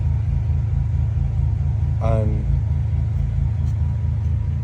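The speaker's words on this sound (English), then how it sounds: "I started the car" A Bentley Continental idling after being started, a steady low rumbling engine drone that holds level throughout, with a brief voice cutting in partway through.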